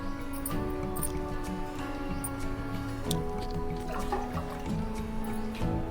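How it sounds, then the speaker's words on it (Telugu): Water poured from glasses into a cooking pot while making rice flour vadiyalu, a steady close trickle and splash lasting several seconds over a faint background hum. "ఇప్పుడు మా నీళ్ళు మసలడానికి మూడు గ్లాసులు పోసుకుందాం"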